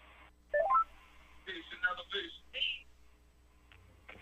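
Incoming phone call tones on a live stream come as a short burst of stepped dialing beeps, then brief chirps, with a voice talking through the latter part.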